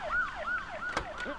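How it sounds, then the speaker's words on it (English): A toy police car siren from a Lego Duplo set wails in rising and falling sweeps, about four quick cycles, fairly close and steady, with a brief click partway through. "Here we can have a police station. There is a police car here."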